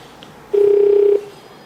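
An incoming phone call during a live prayer broadcast sounds as a single clear electronic tone lasting just over half a second, loud and close against a quiet background.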